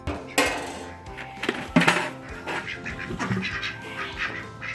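Ducks quack excitedly in bursts nearby at morning feeding time, mixed with other bird calls and some clattering, with no talking.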